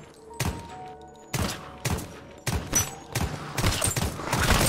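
Shots ring out in the zombie survival game Deathly Stillness, five or six sharp gunshots spaced roughly a second apart, loud and close, each trailing a brief echo over faint background noise.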